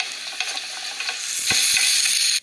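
Nigella seeds and onion drop into hot oil together, sizzling under a few light stirring clinks before the frying surges louder and brighter, then cuts off abruptly.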